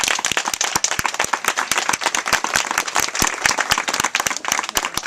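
A crowd at a 2010 political rally in Norwalk applauds, a dense run of loud, close hand claps with sharp individual slaps standing out, sustained evenly throughout without speech.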